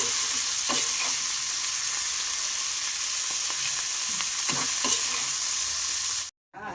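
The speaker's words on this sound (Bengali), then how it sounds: "ভালো করে ভেজে নেব। দেখুন, এটা পুরো ভাজা ভাজা হয়ে গেছে।" Prawn heads fry in oil in a wok, a steady close sizzle with occasional stirring scrapes and taps, running unbroken until a sudden cut to silence near the end.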